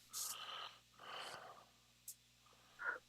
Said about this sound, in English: You don't have to apologize for clearing your throat